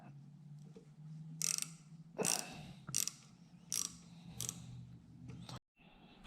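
Metallic ratcheting clicks while a small 7mm nut is loosened on a Christen drill grinder under restoration, about six short, close bursts spaced under a second apart over a low background hum.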